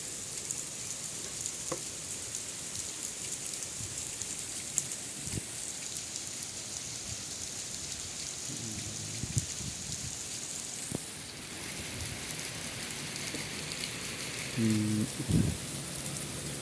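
Rain pours down steadily in a dense, even hiss, with drops pattering on surfaces nearby and a few faint, indistinct voices in the background.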